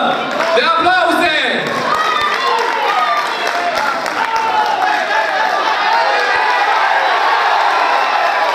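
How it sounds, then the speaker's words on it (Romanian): Crowd applause and cheering at a rugby match in Petrosani, 2011, steady dense clapping with shouts throughout, a loud voice audible near the start. "sportivii au nevoie de o nouă doză de aplauze"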